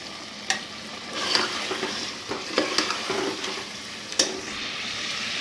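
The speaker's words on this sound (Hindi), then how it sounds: "अब इसको करते हैं अच्छी तरह भुनाई" Beef and potatoes with ginger are stir-fried (bhunai) in a pot, giving a continuous close sizzle broken by the scrapes and knocks of a stirring spoon against the metal.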